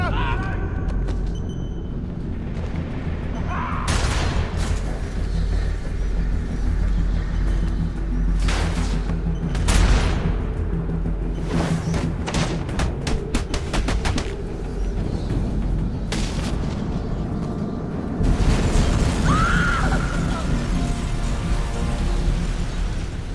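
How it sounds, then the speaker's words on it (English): A game-world explosion of an oil truck on a bridge in Batman Arkham Origins, heard as loud booming bursts and crackling debris with a steady rumble beneath, with some chirping sounds mixed in. "Source of explosion was an oil truck on the bridge surface."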